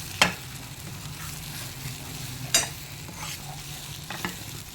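A pan of sun-dried cucumber dal with green chili fries softly while a spoon stirs it, giving a quiet steady sizzle with a few sharp clinks of metal against the pan.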